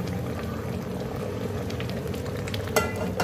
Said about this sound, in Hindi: अब हम अपना जो तड़का हमने रेडी किया वो हम इसको ऐसे लगा दें